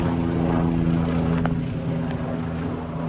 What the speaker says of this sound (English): The helicopter going over right now,